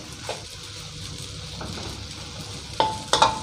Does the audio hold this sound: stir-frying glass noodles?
yes